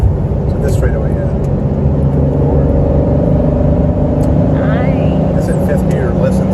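A BMW E46 323i pulling in fifth gear at just under 3,000 rpm gives a steady, loud engine drone with road and wind noise from inside the cabin, while occasional voices sit underneath.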